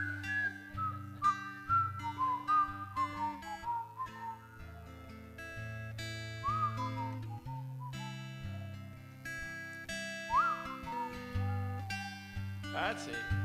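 Several people whistle a melody together in a group sing-along, the tune rising and falling over sustained low accompaniment tones throughout.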